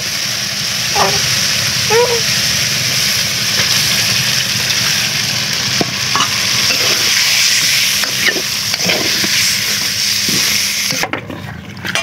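Fish sizzles and is stirred in hot oil with ginger-garlic paste and spices, a steady frying hiss with occasional scraping stir sounds, no voices.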